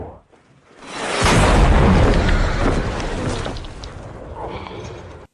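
Gunshot in a film scene as a man fires at a woman entering his home, a single heavy, loud blast after a brief near-silence, with a long rumbling decay that fades over several seconds.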